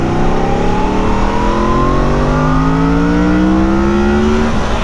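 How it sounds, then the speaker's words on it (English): A Yamaha FZ-10 motorcycle with a cross-plane engine accelerates hard, loud and close, its engine note climbing steadily in pitch through the gears without any talking. "I love the smoothness of the cross-plane engine."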